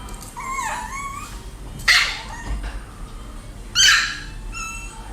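A small Chihuahua, a handbag-sized dog, gives a few sharp high-pitched barks and yips, with two louder bursts standing out against a quiet background.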